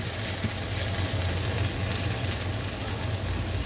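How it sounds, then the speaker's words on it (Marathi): Medu vadas deep frying in oil over a medium flame, giving a steady, even sizzling hiss that runs unbroken throughout with no voices. "असे वडे आपण करून घ्यायचे आहे छान मीडियम आचवर, म्हणजे आपल्या आतमध्ये सुद्धा वडे तळले जाईल"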